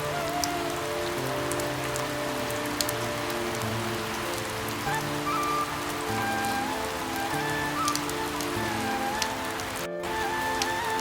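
Heavy rain pours down steadily during a storm in an animated story, a dense, continuous patter of drops striking surfaces close by with no one speaking.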